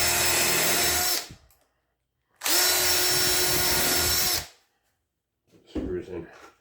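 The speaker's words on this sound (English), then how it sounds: "so I just drill 2 more holes" A power drill bores holes into a diorama, two loud close whirring bursts of about a second and two seconds separated by silence, followed by a shorter rougher bit of handling noise.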